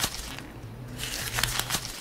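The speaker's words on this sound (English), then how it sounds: "someone asked for the paper crumbling one" A paper crumbling sound effect plays as a close, crinkly rustle made of several sharp crackling bursts with short pauses between them.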